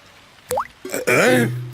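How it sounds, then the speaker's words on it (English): Cartoon water drips fall into a bucket in a Peppa Pig episode, a short rising plink followed by a longer wobbling, resonant plop, close and clear against near silence. "Daddy Pig is using a bucket to catch the drips."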